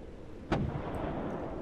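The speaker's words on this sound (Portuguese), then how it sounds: "Olha o barulho da explosão" A single short, sharp blast from an explosion in a farming survival video game, punching out suddenly and fading into a low rumbling background.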